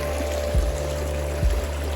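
Spring water trickles and pours steadily beside a mountain trail up Goodale Pass, a soft continuous wash under a low hum, with two brief thumps and no voices.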